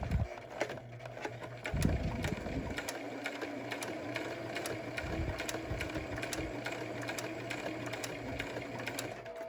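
A sewing machine stitches fabric for a face mask in a steady, continuous mechanical whir, close up and fairly loud, with brief pauses and restarts and no talking over it.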